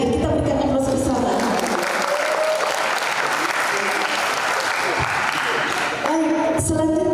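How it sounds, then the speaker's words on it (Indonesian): A seminar audience gives a speaker a loud, sustained round of applause at a business incubator event, dense clapping filling the room for several seconds while an amplified voice talks over its start and end. "Ibu hadir, kita berikan aplaus bersama."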